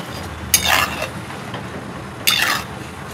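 Pieces of fasting chakli frying in hot oil are turned over with a metal slotted spoon, giving two sharp scraping clinks against the pan about two seconds apart over a soft continuous sizzle.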